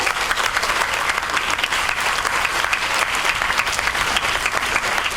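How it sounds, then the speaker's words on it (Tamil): Dense, steady applause from a crowd of children in an audience, filling the whole stretch with no voices over it. "எஸ், கைத்தட்டலாம்"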